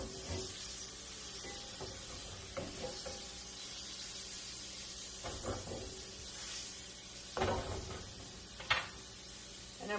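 Chicken browning in a pan for a creamy garlic chicken dinner gives a steady close sizzle and hiss, with occasional louder crackles and spatter as pieces are moved or stirred.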